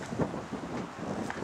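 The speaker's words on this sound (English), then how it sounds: "it's windy as hell, if you can tell" Strong blizzard wind buffets the microphone in a constant, rough roar with a few gusty surges, heard alone outdoors near houses in the snow.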